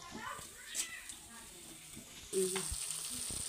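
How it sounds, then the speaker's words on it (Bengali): Spice paste with tomato frying in a pan, a moderate sizzle with stirring scrapes, growing louder partway through, as a cat meows nearby. "এবার আমি মশলাটাকে ভালোভাবে কষিয়ে নেব।"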